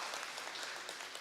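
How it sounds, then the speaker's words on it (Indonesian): Applause from the audience at a doctoral graduation ceremony at STFT Jaffray Makassar, a brief steady burst of dense clapping with no voices. "Boleh beri tepuk tangan kepada Promovendus Sanon."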